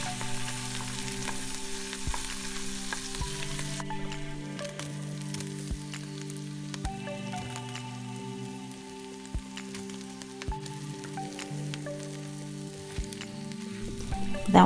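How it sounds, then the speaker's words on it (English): Garlic, scallion and Scotch bonnet pepper sizzle steadily in margarine in a pan while being stirred, a soft crackling fry with occasional scraping clicks and no talking. "Now I'm going in with a bit of garlic. We're just going to stir that around."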